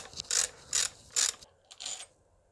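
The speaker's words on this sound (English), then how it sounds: "You're gonna need an E10 and open this bolt." Ratchet with an E10 socket loosening a bolt on the secondary air injection pump of a Mercedes S320 W220, heard as three loud, close bursts of clicking followed by two shorter ones.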